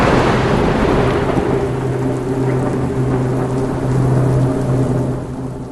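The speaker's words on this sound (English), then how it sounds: "the biggest storm I've ever seen came through St. Louis. It was literally pitch black and wind blowing and rain slanted" Thunderstorm with steady heavy rain and a continuous low rolling rumble of thunder that swells and fades, loud and close throughout, with no voices.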